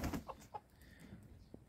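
Hens in a backyard flock cluck in a few short, quiet bursts as they come running out to be fed outdoors, with faint rustling between calls.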